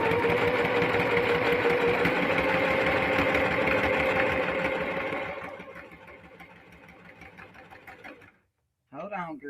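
Singer Heavy Duty sewing machine stitching a crossbody bag, a loud, close mechanical whir that runs steadily, then slows and fades to silence before a voice briefly speaks at the end.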